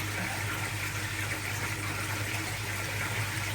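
Water runs steadily as it is drawn off to fill an easy pod inside a plywood grow setup, a continuous close rushing wash over a low hum with no voices.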